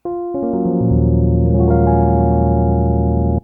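Sustained electric piano chords ring out alone, layering in over the first second and holding steady until an abrupt cutoff.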